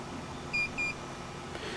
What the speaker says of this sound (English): Slide the LevelMate Pro switch to the right and you will hear two beeps.